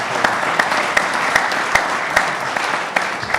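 An audience bursts into applause during a speech about African American and Jewish history, a steady wash of many clapping hands punctuated by a few sharper individual claps, fairly loud and close.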